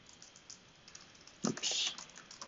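Computer keyboard typing of Java code, quick close clicks in short bursts with a denser flurry of keystrokes midway, faint and without talk.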